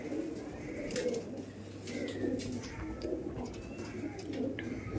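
Rampuri pigeons coo softly and repeatedly, close by, with faint chirps and a low steady background hum.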